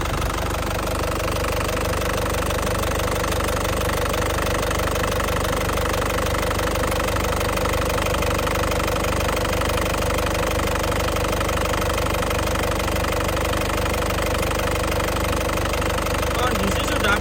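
A warmed-up 2011 Panther LS Turbo diesel engine idles steadily with a dense, continuous knocking rumble throughout, loud and close, with no other sound breaking through.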